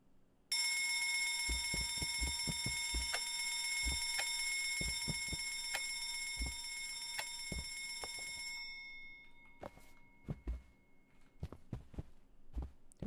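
A loud electronic alarm in the video game Escape the Backrooms rings in rapid repeated bursts for about nine seconds, then cuts out, leaving scattered clicks and faint thuds.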